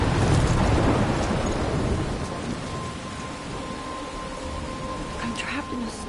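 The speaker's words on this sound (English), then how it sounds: "I'm trapped in a storm?" Thunderstorm in the video game Life is Strange: a heavy rumble of thunder rolls in loud at first and fades under a steady hiss of pouring rain, with a faint tone running through.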